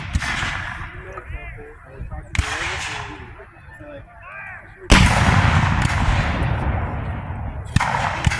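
Cannons boom at a Civil War battle reenactment at Old Bedford Village, with several loud, sharp blasts that roll off into rumbling echoes. Voices talk faintly between the shots.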